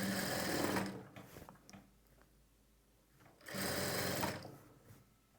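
A sewing machine stitches lining and piping in two quick, close bursts of rapid whirring, with a quiet pause between them.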